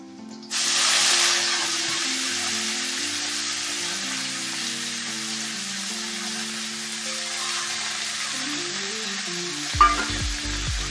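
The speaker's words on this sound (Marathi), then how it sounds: "आता याच्यामध्ये मेथीची भाजी टाकून घेऊ" Fenugreek leaves drop into a hot oiled pan and fry with a loud, steady sizzle and hiss that holds for several seconds, with a brief stirring clatter near the end.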